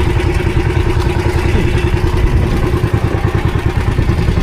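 Small boat engine at sea on the Pacific off Surigao, misfiring with a loud close rough clattering chug whose rhythm stutters unevenly throughout, with no voices over it.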